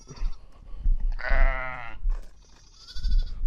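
A flock of sheep being moved during rotational grazing bleats several times, a long wavering bleat in the middle with shorter calls around it, close by amid outdoor rustling.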